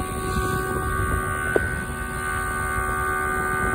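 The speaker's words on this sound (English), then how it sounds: "I got a temporary fan that was too big to fit in the case" An oversized temporary cooling fan blows steadily beside a test rig, giving a constant loud whoosh with an electrical hum beneath and one brief click, no speech.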